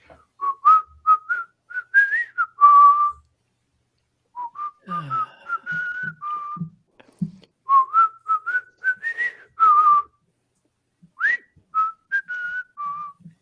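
A person whistles a tune in clear, bright phrases that come in several bursts with short pauses between them, close and loud, with a few faint low sounds in the gaps but no speech.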